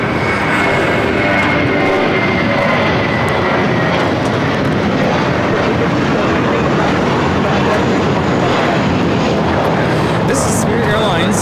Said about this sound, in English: This is Spirit Airlines 303 taking off to Detroit on the A320.